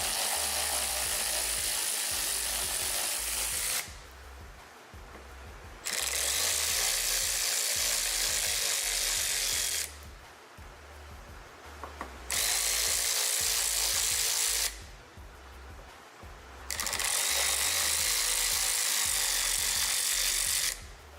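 Pneumatic ratchet loosening the many bolts on a Bugatti Veyron fuel cap, three long loud bursts of buzzing rattle separated by short pauses, with a low rhythmic thumping underneath throughout.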